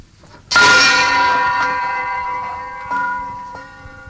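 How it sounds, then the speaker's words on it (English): A gong at lunchtime is struck once, loud and close, with a long shimmering metallic ring that slowly decays, then a lighter second strike adds to the fading tone. "so she better go and ring the gong"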